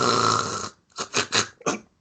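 A voice imitating loud snoring from someone passed out asleep in a theater: one long, rasping snore, then a pause and several shorter snorting pulses, close and loud.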